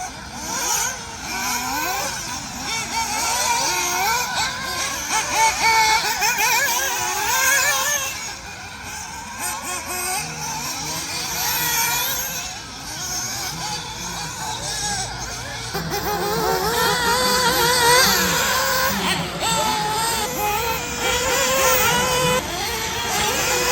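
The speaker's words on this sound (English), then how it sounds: "I'm gonna just let some of these Nitrous cars run and let you listen to them." High-pitched nitro RC car engines whine and rev continuously, several buzzing at once as they race past on a raceway, loud and close.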